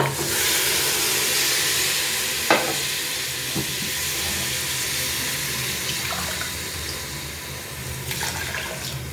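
Water for beef broth bubbles and hisses steadily in a pot, a dense, even roar with a few faint clinks and bumps breaking through and no talking.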